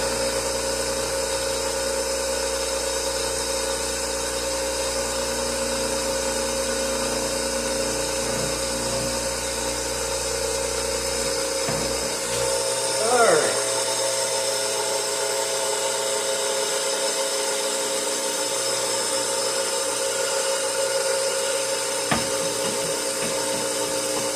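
A steady mechanical whir of a Sellers 4G drill grinder sharpening a drill bit runs throughout, with a brief scraping bump midway and a faint click near the end; no talking.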